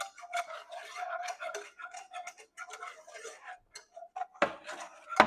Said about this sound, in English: You want to keep whisking for this and make sure that there are no big clumps of flour left